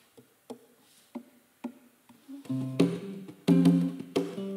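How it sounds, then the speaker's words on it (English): Bass line from a salsa piece, played as a few separate plucked notes at first and then building into a fuller, louder syncopated pattern with sustained low tones, heard alone with no talking. "The bass in the salsa sounds like this."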